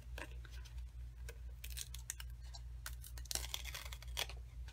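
Scissors trimming paper for a handmade graduation card, several quick snipping cuts close by at moderate loudness over a low background hum, no talking.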